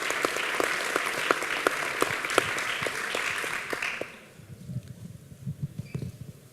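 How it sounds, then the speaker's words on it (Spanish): An audience applauds a speaker at a Latin American housing-market event, a full round of clapping with distinct individual claps for about four seconds, then it fades and a few scattered claps and low shuffling noises remain. "Por favor, un fuerte aplauso para Tobías Contreras Sánchez."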